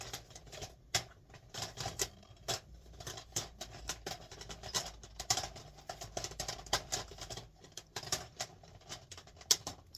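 Rapid irregular clatter of a pile of picks being shuffled by hand, close and fairly quiet, a dense stream of small taps and rustles with no talking.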